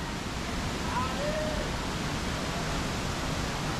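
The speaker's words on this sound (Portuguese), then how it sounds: "Chegamos numa parte aqui da cachoeira." Cachoeira Esmeralda waterfall in Roraima, Brazil, a steady close roar of rushing water that fills the scene evenly from start to finish with no pauses.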